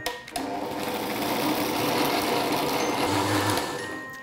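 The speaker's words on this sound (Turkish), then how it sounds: "Ve her şey iyice karışıncaya kadar güzelce blenderdan geçiriyorum." A blender mixes a chocolate cherry milkshake with a loud, steady motor whir that starts abruptly and runs unbroken to the end.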